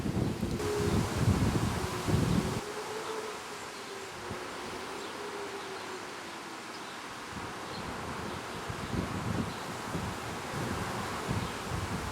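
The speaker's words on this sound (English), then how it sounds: "Bit windy out here today." Steady outdoor wind rushes and buffets the microphone, with a low droning insect buzz running underneath throughout.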